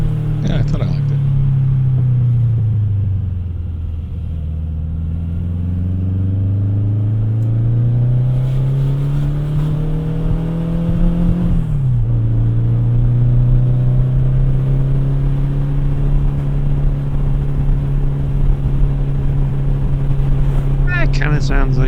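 A turbocharged Volkswagen Beetle engine runs nearby with a loud, deep droning rumble, revving up and down in slow swells and holding at a steady idle-like hum, with voices talking over it.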